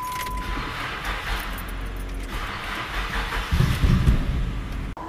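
A JDM car with a manual gearbox cranks and churns without catching, a mid-pitched engine noise that swells and grows heavier toward the end before cutting off abruptly, with no talking.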